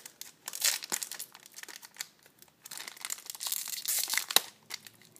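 A Yu-Gi-Oh Metal Raiders booster pack is crinkled and torn open close up, its foil wrapper giving a continuous run of crackly rustles and sharp ripping bursts, with no talk.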